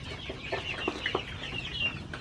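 Cornish cross chickens on a homestead cluck and chirp in a loose flock, with several short calls and soft murmurs scattered over a low background, fairly close and without talk.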